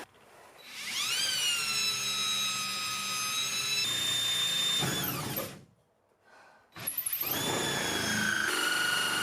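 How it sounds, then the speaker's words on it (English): A power drill whines as it spins up and bores a hole in a wall, holding a high, steady pitch, then stops briefly before a second long run. "I'm going to drill a giant hole right here"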